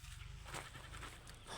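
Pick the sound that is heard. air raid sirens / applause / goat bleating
goat bleating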